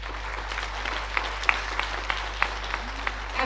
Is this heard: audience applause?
yes